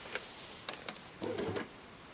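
A Baby Lock Sashiko sewing machine making a stitch: a few faint, light mechanical ticks and a short soft whirring run, heard close and quiet with no voice.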